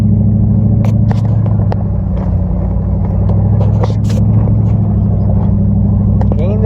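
A truck serving as a home climbs an old mountain trail with a loud, steady engine rumble, while the body rattles, clunks and scrapes intermittently over the rough ground.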